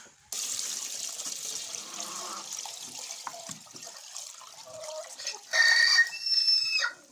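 Fresh water splashes and pours into a container for backyard chickens, steady running water with hens clucking and a bird's sharp calls rising near the end.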